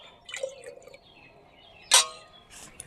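Water added little by little into a jar of raw mango being preserved, a few small drips and one sharp splash, quiet and close with no talk.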